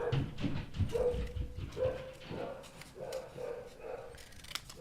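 Dogs bark and yip intermittently at a distance, several short barks spread across the moment, fairly faint against quiet background noise.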